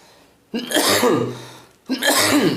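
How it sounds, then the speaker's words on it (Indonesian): Two harsh coughs from a nearby person, separated by a short pause, each burst loud and rough with a throaty rasp, standing alone without other talk. "Aduh, batuknya."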